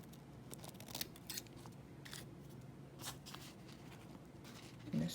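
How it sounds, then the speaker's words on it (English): Sharp scissors snip through layered paper napkin, a string of quick crisp cuts with soft rustling between them, close and fairly quiet against a low background hum. "I'm cutting another piece of napkin out"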